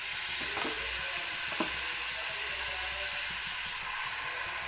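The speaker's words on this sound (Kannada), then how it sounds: "ಈಗ ತೊಳೆದಿಟ್ಟಿರುವಂಥ ಲಿವರ್ನ ಹಾಕ್ಕೊಳ್ತಾ ಇದ್ದೀನಿ" Washed mutton liver fries in a pan, a loud, steady, close sizzle with a few faint scraping stir sounds.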